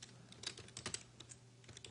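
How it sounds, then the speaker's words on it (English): Keys on a computer keyboard tap in quick, irregular bursts, close and quiet, with brief pauses between clusters of keystrokes. "let's just type into our announcement text"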